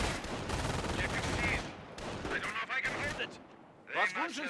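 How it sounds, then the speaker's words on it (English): An MG42 machine gun fires steadily in Company of Heroes during a replay, a dense rattling stream with explosions under commentary talk, cutting off midway and resuming more faintly. "He's going to take a bit of damage there from the MG42."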